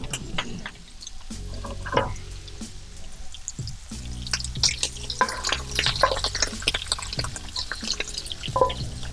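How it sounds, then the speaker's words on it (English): Shrimp fry in a hot pot of fried rice with a steady sizzle and crackle. Stirring clatters and water-like popping come and go throughout, and no one talks. "And these shrimp are ready to go in."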